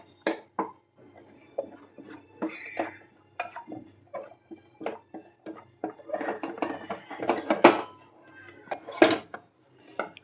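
A spoon clinks and scrapes against a pan while flour dry-roasts to a light brown, giving irregular knocks and scrapes of varying loudness, with a quiet voice faintly in the background.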